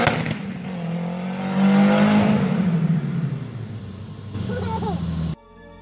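A lifted, extended Bronco with a 7.3 liter turbo diesel engine revs loudly, its deep drone swelling near the two-second mark, then settling into a steady rumble before cutting off abruptly near the end.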